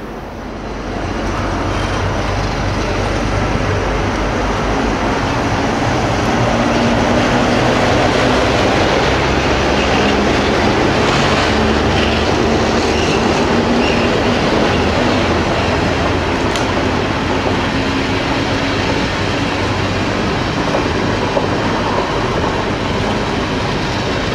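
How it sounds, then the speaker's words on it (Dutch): Passenger train 164 bound for Rotterdam pulls away and runs along the rails, a loud, steady rumble building after the first seconds and continuing with faint clickety-clack and no speech. "om 9:11 vertrekt trein 164 richting Rotterdam, met 6 minuten vertraging"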